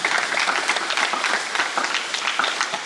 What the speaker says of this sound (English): How about a big round of applause for Terence Hubbert.